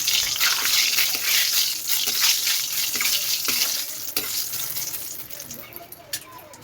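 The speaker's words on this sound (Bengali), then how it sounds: "তেলটা গরম হয়ে গেছে, এখন আমি শুকনো লঙ্কা দিয়ে দিচ্ছি" Dried red chillies and bay leaves sizzle in hot oil, a steady bright crackling hiss running throughout with small pops, fairly loud and close, fading slightly toward the end.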